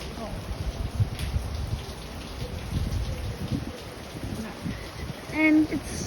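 Steady heavy rain in Wacol, Brisbane, during a cyclone, a constant broad wash of falling water close by, with brief voices and a short sharper sound near the end.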